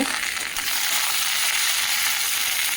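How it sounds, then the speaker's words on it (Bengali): Bitter gourd fries in a pan with a dense, loud, even sizzle that holds steady throughout, close and uninterrupted, with no talking. "এখন রান্না হচ্ছে এই যে উচ্ছে ভাজা হচ্ছে"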